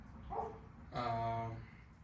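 Sharp barks from a dog ring out near a workshop during removal of an engine from a 2002 Chevy Tahoe, one brief yip followed by a longer, tonal bark at moderate distance.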